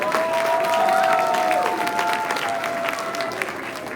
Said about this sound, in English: How about a nice warm round of applause for Brooke Eagle.